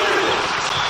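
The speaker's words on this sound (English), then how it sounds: "Crowd appreciates good football all round there." Stadium crowd in an eFootball PES match, applauding and murmuring steadily for a second as broad, dense noise, with commentary speech over it.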